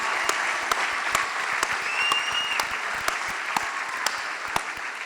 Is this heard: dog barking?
no